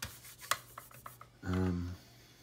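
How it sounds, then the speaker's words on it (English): Fingers wipe down a part of an Eaglemoss Back to the Future DeLorean model kit: a few light clicks and taps come first, then a short squeaky rub near the end. "I'm going to have to wipe this down"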